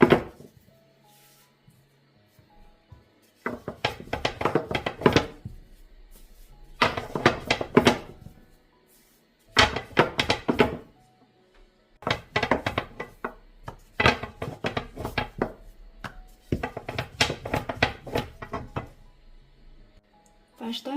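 A long thin rolling pin works baklava dough into small plate-sized rounds, producing repeated bursts of wooden rolling and knocking on a board, separated by short pauses.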